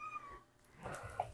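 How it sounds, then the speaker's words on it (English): A cat gives a short, faint meow, followed by a soft rising cry and quiet rustling nearby. "I have a cat here, one of my cats."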